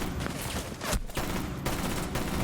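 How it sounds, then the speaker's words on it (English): Rapid gunfire during a Rainbow Six Siege match, loud and dense, with bursts running almost nonstop and a brief gap near the middle. "Who am I being shot by?"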